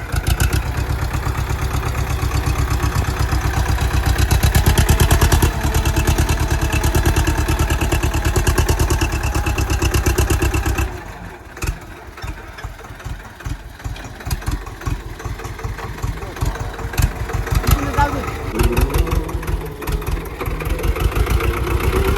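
A tractor stuck in a muddy field at sowing time, its engine running loud and steady with a rhythmic chug, then dropping to a rougher, uneven idle.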